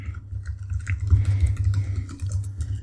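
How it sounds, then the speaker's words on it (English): Quiet keyboard typing, with soft, muffled key taps close by running steadily for a few seconds over a low background hum. "I'm gonna type here in the testimonials"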